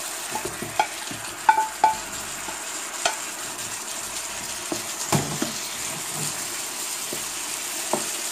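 Meat goes into a paella pan and sizzles steadily while it is stirred, with scattered clinks and scrapes of the utensil against the pan over a soft, continuous frying hiss.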